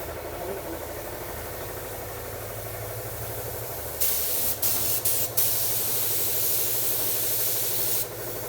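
Compressed-air paint spray hisses loudly onto a Fox body race car's panel in bursts, starting partway through with brief pauses, over a steady low engine or compressor hum.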